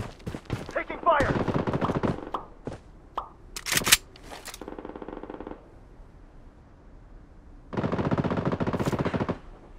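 Gunfire in the video game Bloodstrike: close automatic bursts and single cracking shots in a rapid volley, then a steadier rattling burst, a lull, and another sustained stretch of fire near the end.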